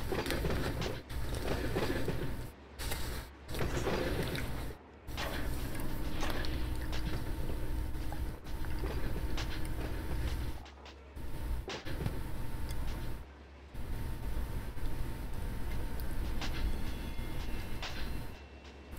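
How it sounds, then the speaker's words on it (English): Refrigerated railcars roll past in a rail yard with a loud, continuous rumble and clatter, broken by several brief drops and rhythmic wheel clacks over about twenty seconds. "I was wondering what was making noise. It was reefers going by."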